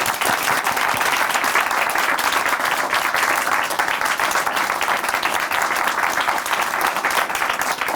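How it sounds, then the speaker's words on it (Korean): An audience at a church broadcast claps together in a dense, steady burst of applause that lasts the full eight seconds at an even, close loudness. "축하의 박수 보내드리겠습니다"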